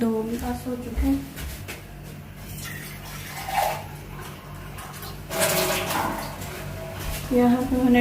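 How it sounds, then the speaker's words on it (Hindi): Water pours in short splashy bursts into a cooking pot for rice, stopping and starting a few times while someone talks over it. "अब मैं इसमें लगाऊंगी चावलों के लिए पानी।"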